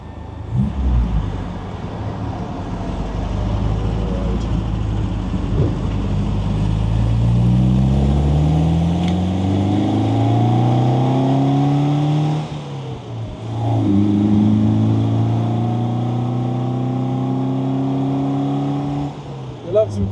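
A classic MGB cruising in overdrive below 30 mph, its engine pulling unevenly from low revs and accelerating in repeated rising sweeps, heard from inside the car as people talk over it.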